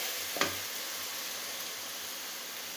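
Meat sizzling steadily in a pan with ginger, garlic and onion, a continuous close frying hiss with a brief clatter of stirring near the start and no voices.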